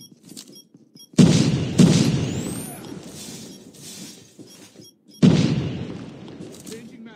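Sharp explosive bursts from a Call of Duty Mobile match as an enemy sentry gun is destroyed: three loud booming hits with decaying rumbles between them.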